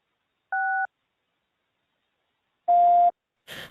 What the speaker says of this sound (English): To leave a message, please press 6 and wait for the beep.